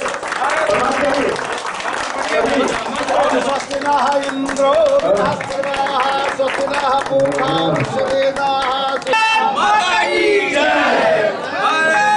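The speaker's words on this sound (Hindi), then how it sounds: "एक बार जोरदार तालियों से स्वागत करिए" A crowd at a community event marking a former prime minister's birthday applauds with sustained clapping, mixed with cheering voices and tonal sounds. The gathering sounds lively and fairly loud over about twelve seconds.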